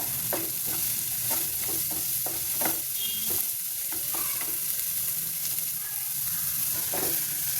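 Salted carrots stir-frying in a pan over a full flame, giving a loud, constant sizzle broken by repeated scraping stirs of a spoon against the pan, close up and without speech.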